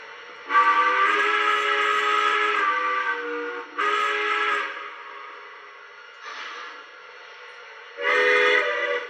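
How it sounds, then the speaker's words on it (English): A Lionel model train whistle on a New York Central Dreyfuss Hudson engine blows in several separate blasts, a long chord first and then shorter toots, clear and close, with quiet gaps between them. "This is the whistle that I like for this engine."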